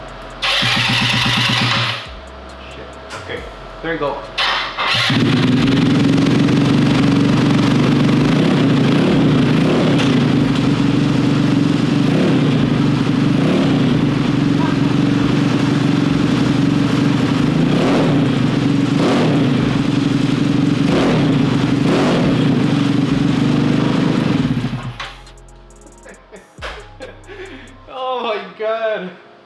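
GY6 150cc scooter engine with a custom larger-diameter exhaust on a Vitacci Rocket starts after a few tries, then settles into a loud, steady idle with several sharp revs before shutting off, with brief talk at the start and end.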